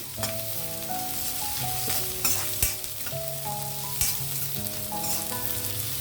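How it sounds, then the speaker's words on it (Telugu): Spices and cumin seeds fry and crackle in hot oil in a pan for mint rice, a steady close sizzle with scattered sharp pops and a clink of stirring, no voices. "ఇవి వేగేటప్పుడే నేను జీలకర్ర కూడా యాడ్ చేస్తున్నాను ఇందులోను."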